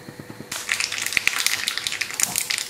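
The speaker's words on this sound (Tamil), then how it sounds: "இப்போ கடுகு நல்லா பொரிஞ்சிருச்சு." Mustard seeds spluttering in hot oil as tempering for a Tamil kootu, with asafoetida added: a dense burst of sharp crackling pops starting after a brief quiet moment, then continuing steadily and close.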